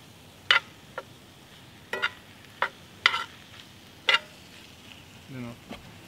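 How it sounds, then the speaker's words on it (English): Flour stirred into a sizzling pan, with a quiet continuous sizzle under a series of sharp scraping and clinking strokes spaced irregularly, a brief low murmur near the end. "I'm going to add just a little bit first and kind of stir it in a little bit"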